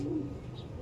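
A single bird, a pigeon or dove kept by a hobbyist, gives a short, soft coo, close by and faint over low background noise.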